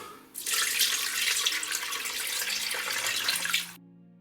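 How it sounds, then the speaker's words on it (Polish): Hot water runs from a kitchen tap into a pot of bay leaves and peppercorns, a steady close rushing stream that starts abruptly, holds for about three seconds and cuts off cleanly. "Zalewam gorąco wodą z kranu."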